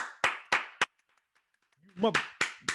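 A few people on a podcast clap in sharp, separate claps, three quick ones, a short pause filled with a voice, then three or four more close by.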